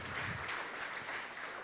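Congregation applause fills a church worship service, a steady wash of many hands clapping throughout, close and dense with no talk on top.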